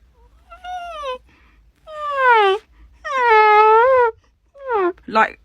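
A voice imitates a running child's heavy, panting breath in several strained, whining bursts separated by short pauses, ending in a rough gasp.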